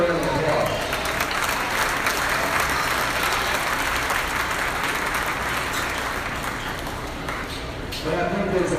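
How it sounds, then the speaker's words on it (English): A crowd applauds at a swine show, steady broad clapping filling the arena, with a voice speaking over it at the start and end. "Yeah, give a round of applause."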